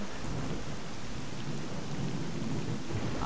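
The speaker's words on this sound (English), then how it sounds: "Yay, more rain!" Steady heavy rain with low rumbling thunder in a video game set in a rain-soaked Twilight Zone area, a dense continuous downpour close around the listener with no talk.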